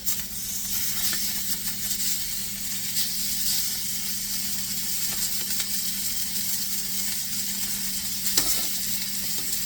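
Rib eye steaks sear in a hot pan, giving off a steady, close sizzle and hiss that holds level throughout, with a brief louder crackle near the end and no talk.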